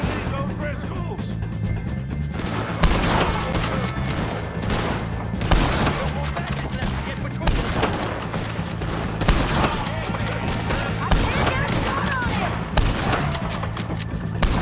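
Heavy gunfire from a shootout with the O'Driscolls in Red Dead Redemption 2, with dense, repeated close shots and booms filling the whole stretch, plus shouted game voices in the mix.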